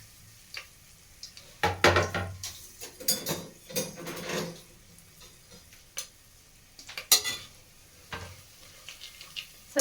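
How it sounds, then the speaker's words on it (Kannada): Spices crackle and sizzle in hot oil on low flame, with scattered ticking pops and the scrape of stirring against the pan, fairly quiet and close. "ಎಣ್ಣೆ ಸ್ವಲ್ಪ ಕಾದ ನಂತರ ಇಲ್ಲಿ ಇಟ್ಕೊಂಡಿದ್ವಲ್ಲ ಸ್ಪೈಸಸ್ಸು ಅದನ್ನೆಲ್ಲ ಹಾಕೊಳ್ಳೋಣ"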